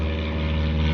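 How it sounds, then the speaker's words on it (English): A small private propeller plane drones overhead, a steady loud buzzing hum with no break across the short moment. "Little private plane flying overhead, making noise."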